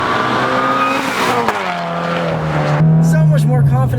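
A Toyota 86 sports car on RS-R coilovers corners hard, its engine note loud and close, shifting and rising with a brief tire squeal near the end.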